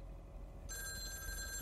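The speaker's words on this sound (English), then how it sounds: "Phone rings." Telephone ringing in a video game cutscene at a residence on a Tuesday evening, a bright electronic ring starting suddenly and continuing steadily over a low background hum.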